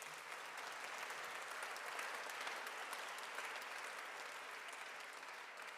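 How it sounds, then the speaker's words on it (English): Summit audience applause from a large hall, a dense, even wash of many hands clapping at a distance, sustained and uniform throughout without pauses. "Let's give them a great round of applause."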